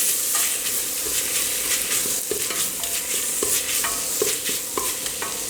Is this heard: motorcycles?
no